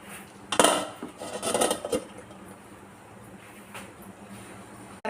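A metal lid is set onto a pot of simmering moong dal, with a burst of clattering, clanking cookware near the start, then a quiet steady background.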